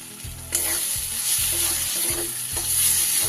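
Ginger-garlic paste with green chilli paste and cumin powder sautés in a pan with a loud, continuous sizzle, broken by regular rhythmic scraping strokes of a spatula.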